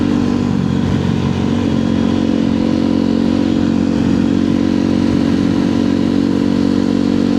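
A motorcycle engine runs steadily at low revs on a street ride, a loud, even droning hum close to the rider with constant wind and road rush and no talking.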